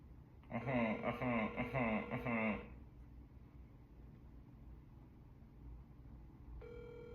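A telephone rings after a call is dialed, giving a loud warbling electronic ring for about two seconds, then a stretch of quiet line hiss before a steady tone begins near the end.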